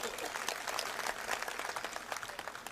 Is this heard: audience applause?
yes